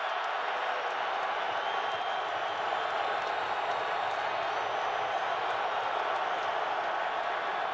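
A steady roar of a large stadium crowd at a 2007 NFL football game, Dallas Cowboys with Tony Romo against the Detroit Lions, with a broad constant murmur and no sharp peaks.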